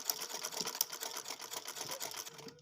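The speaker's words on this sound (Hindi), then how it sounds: "बिल्कुल किनारे पे हम इसकी सिलाई लगाएंगे" A sewing machine stitches lace onto the edge of fabric, running in a fast, steady rhythmic whir of needle strokes, close and moderately quiet, then stopping at the end.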